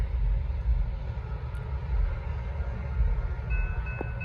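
A Norfolk Southern northbound freight train, 28R, rumbling past steadily with heavy low-end roar throughout, moderately loud and close, a brief higher squeal or horn-like tone near the end.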